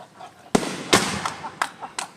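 Backyard fireworks explode in four sharp, loud bangs spaced unevenly over about two seconds, each followed by a brief crackling tail over low background noise.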